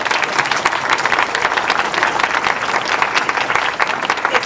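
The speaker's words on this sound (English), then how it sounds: "all of you should deserve a big round of applause from everybody" An audience at the Sheridan County Fair pocket pets show breaks into loud, dense clapping that stays steady for several seconds with no speech over it.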